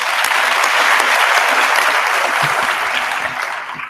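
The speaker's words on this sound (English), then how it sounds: "Let's give them another round of applause." A large graduation ceremony audience at the University of Johannesburg breaks into loud, dense applause that holds steady throughout and eases slightly at the end.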